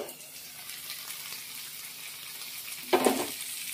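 Fish curry spices sautéing in an uncovered pan for a thin summer fish curry, a soft continuous sizzle with one brief louder scrape of stirring near the end.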